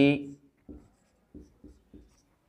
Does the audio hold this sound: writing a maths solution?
yes